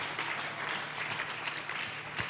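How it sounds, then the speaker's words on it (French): Sustained applause from a church congregation, a dense, even clatter of many hands clapping for a couple of seconds with no speech. "Acclamons très fort."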